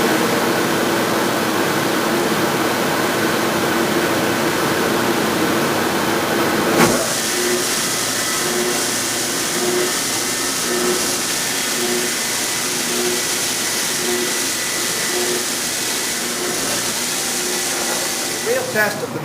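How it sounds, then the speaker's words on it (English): A workshop dust collector runs steadily in the background while an edge sander trues the edge of a curved veneered mantle substrate, giving a continuous loud whooshing drone with a brief bump partway through. "I've got my dust collector going."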